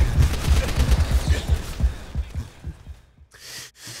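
Rapid, dense gunfire from Call of Duty: World at War, in a WWII battle before the Reichstag: overlapping shots and bursts crackle loudly for the first couple of seconds, then thin out and fade into softer, breathy noises.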